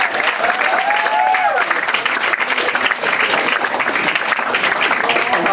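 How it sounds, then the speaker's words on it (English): Loud, sustained audience applause at a literary festival evening, dense clapping from a close crowd with a few cheers and whoops rising over it. "give a huge round of applause for the beautiful Mariana and Julia"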